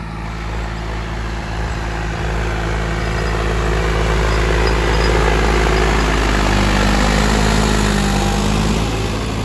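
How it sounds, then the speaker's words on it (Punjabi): A 75 hp tractor engine runs at a steady, loud idle, a deep continuous drone that holds without a break and swells slightly partway through, alone with no talk. "ਪਰਫਾਰਮੈਂਸ ਦੇਖੋ ਚੈੱਕ ਕਰੋ ਟਰੈਕਟਰ ਦੀ"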